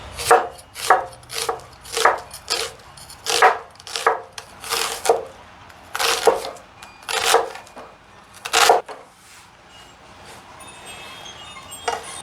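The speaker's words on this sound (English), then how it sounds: "the next thing I'm going to do is cut our half of an onion." A knife chops half an onion on a wooden board: about a dozen crisp, evenly spaced thuds, close and clear, before the cutting stops and it falls quiet.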